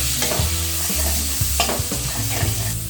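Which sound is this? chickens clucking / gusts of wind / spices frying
spices frying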